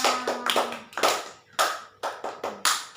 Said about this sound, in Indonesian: Baik, tepuk tangan.